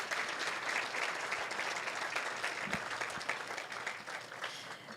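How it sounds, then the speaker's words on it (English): Sustained applause from an audience at a benefit luncheon, a dense steady wash of many hands clapping that continues for the whole stretch and tapers slightly at the end. "So let's give PJAL and their members another round of applause for the amazing things that they've done"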